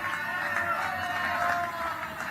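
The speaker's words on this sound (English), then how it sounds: "the spectators really enjoying that and cheering up" Tennis spectators at the National Games cheer steadily, a broad, even roar of crowd noise with excited voices holding at a constant level throughout.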